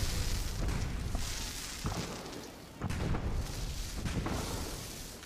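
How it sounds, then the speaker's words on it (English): Small bursts of explosions go off across Fallout 4's Nuka-World park as its power comes back on, a steady rumbling wash with a few sharper thumps rising out of it, moderately loud and with no talk. "The little explosions all over the place."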